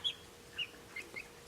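A young rooster gives a few short, soft clucks, spaced apart and fairly close, over a quiet background.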